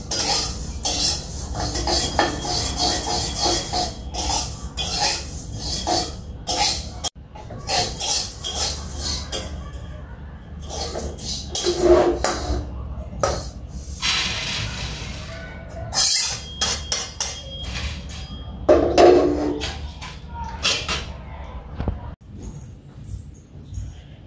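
A metal spoon scrapes and clatters against a pan while flattened rice is stirred and fried at home, irregular close scraping strokes with brief pauses and a faint sizzle.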